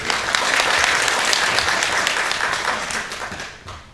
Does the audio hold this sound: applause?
yes